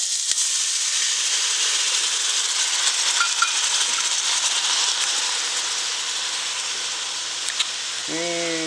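Loud continuous sizzling hiss of vodka in a hot pan throughout, steady and close, with a brief voice-like tone near the end.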